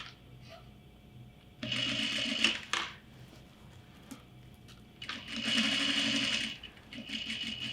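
A sewing machine stitches a bag seam in two loud running bursts with brief pauses between, motor whir steady and close, quieter handling sounds in the gaps.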